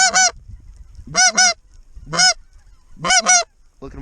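Snow geese honk during a blizzard hunt, their loud, close calls coming in short single and paired bursts with quiet gaps between them.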